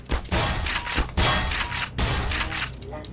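Shotgun blasts from the Black Mesa video game, three loud broadband booms spaced roughly a second apart, each followed by a short rumbling tail.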